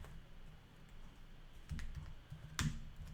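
Typing on a computer keyboard, a few scattered soft key presses and one sharper click near the end, faint and close against low background noise with no talk.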